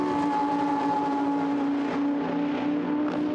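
Lamborghini Super Trofeo race cars at full throttle through Brooklands at Silverstone, a steady loud engine howl with sustained high-pitched tone holding for a few seconds, close and continuous.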